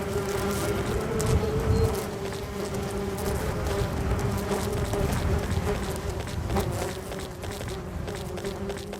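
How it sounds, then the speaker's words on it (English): Flies buzz over a plague pit of freshly buried village dead in the video game Eucrasia, a steady dense droning hum that continues unbroken for the whole stretch at a fairly loud level. "the sound of flies buzzing"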